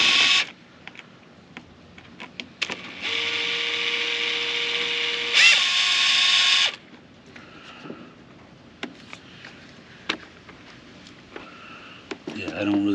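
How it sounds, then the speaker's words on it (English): A power drill backs a screw out during a horn upgrade: a steady whirring motor run of about three seconds, then a higher-pitched buzzing spurt, with clicks and handling noises around it and a voice speaking nearby. "I'm going to undo this screw, back it up just a wee bit"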